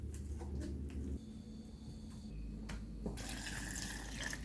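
Water pours onto orange fiber in a blender, a quiet, continuous splashing and trickling with a low hum, and a brighter gush near the end.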